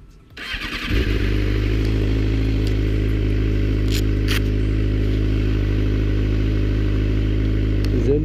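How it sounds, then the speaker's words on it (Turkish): A motorcycle's engine cranks briefly and catches within the first second, then settles into a loud, steady, close idle rumble that carries on without a break. "Motoru da çalıştıralım."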